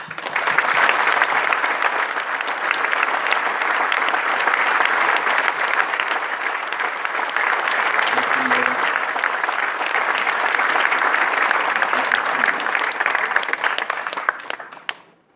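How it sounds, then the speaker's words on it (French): An audience at a UNESCO celebration in Grasse gives a loud, sustained ovation, dense steady clapping lasting about fourteen seconds before fading out. "je voudrais qu'on fasse une ovation aussi"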